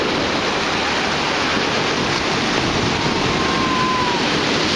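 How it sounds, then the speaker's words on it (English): Steady broadband roar of surf, dense and continuous with no pauses, like waves washing close by. "Rock Allen Rick backing into the waves."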